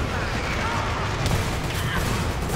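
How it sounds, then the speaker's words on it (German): A grenade goes off in the online shooter Dirty Bomb amid a steady wash of battlefield gunfire and blasts, loud and dense throughout with no clear break. "Oh, Granate."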